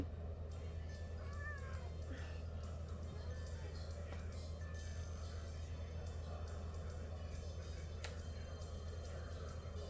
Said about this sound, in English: I have a cat that thinks it's time to cuddle.